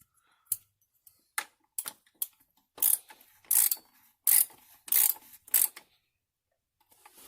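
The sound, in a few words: oil filler wrench ratcheting on Mercedes S430 W220 engine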